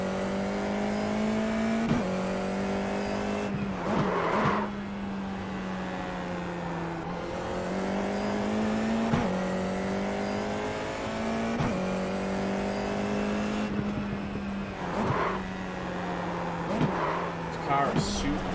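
A Formula Vee race car engine in iRacing whines through repeated rising revs and abrupt gear-shift drops, sweeping up again and again over the whole run, with a voice talking over it at times.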